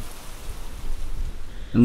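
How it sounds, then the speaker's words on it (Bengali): Steady, soft rain hisses evenly, easing off, with a brief louder sound at the very end. "যাক, বৃষ্টিটা একটু ধরেছে এতক্ষণে।"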